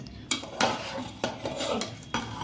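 Paneer tikka ingredients mixed in a bowl with a spoon, close repeated clinks and scrapes against the bowl in an uneven rhythm, with no voices.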